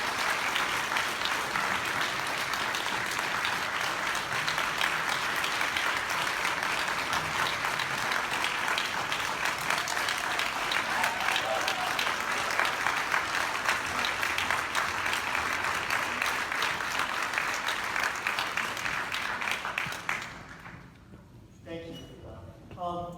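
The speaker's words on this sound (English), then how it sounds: "So give these guys a big applause." Long, steady applause from a conference audience, dense and even for about twenty seconds before it stops abruptly, followed by a short stretch of quieter room sound.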